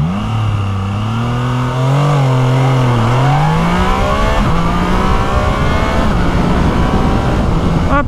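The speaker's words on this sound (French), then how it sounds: "La moto fait comme un truc chou quand t'accélères à fond." A Triumph Trident 660 three-cylinder motorcycle accelerating hard, the engine note climbing through revs, dropping at a gear change and pulling up again, loud and close with steady wind noise.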